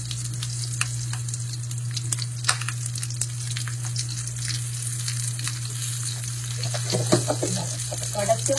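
Spices and brinjal sauté in hot oil with a steady low sizzle, scattered clicks and scrapes of stirring throughout, and a constant low hum underneath; no one speaks.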